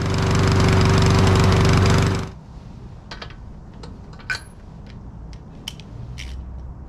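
A lawn mower mulching fallen leaves roars loudly and steadily for about two seconds, then sputters out of gas, followed by quiet outdoor ambience with a few small clicks.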